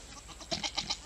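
Male goat on an 1864 farm making a short series of four quick, nasal bleats close by, after a moment of quiet background noise.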